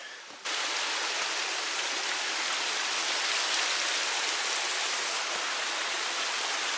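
Steady rain falls in the Great Smoky Mountains, a dense, even hiss that starts abruptly after a brief quieter moment and then holds constant and fairly close, with no talking.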